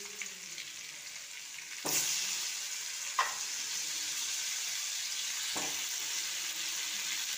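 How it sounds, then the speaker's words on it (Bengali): Prawns fry in hot oil with a continuous bright sizzle that swells louder partway through, broken by a couple of brief utensil knocks against the pan. "চিংড়ি মাছগুলো ভালো করে আগে ভেজে নেবো"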